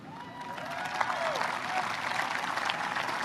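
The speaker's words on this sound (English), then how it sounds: "And the crowd sort of actually does start clapping." A large crowd at Trump's July 4th speech claps steadily, the applause swelling and sustaining as a broad, fairly distant wash with faint crowd murmur beneath.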